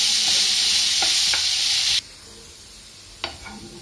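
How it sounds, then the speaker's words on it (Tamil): Thinly sliced potatoes sizzle loudly in oil in a pan with a few stirring scrapes, then the hiss drops away abruptly, leaving quiet clinks of the spoon. "நல்லா உருளைக்கிழங்கு வேகிற வரைக்கும் ஃப்ரை பண்ணணும்."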